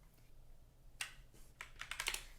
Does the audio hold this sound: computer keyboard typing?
yes